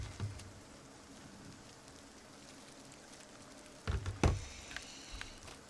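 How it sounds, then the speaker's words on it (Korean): Rain patters softly and steadily at a campsite in the video game Dragon's Dogma 2, a faint continuous hiss with a few louder taps and thuds near the end. "비가 오네?"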